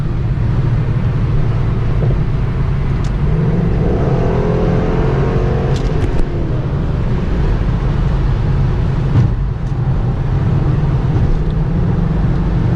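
A 2011 Ford Mustang GT with the 5.0 V8 under hard acceleration, its engine roaring steadily and loudly from inside the cabin with a few faint clicks over the drone.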